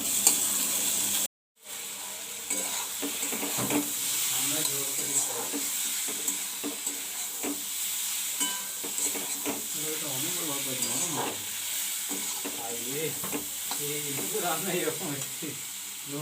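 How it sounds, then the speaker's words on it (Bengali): Onion and chilli fry in a hot pan with a steady, close hiss and crackle that carries on under someone talking for most of the stretch. "এই যে পেঁয়াজ আর লঙ্কাটা ভাজা হচ্ছে"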